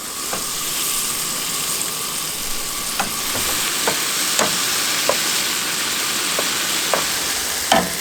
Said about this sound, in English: I'm just going to go ahead and get this meat browned up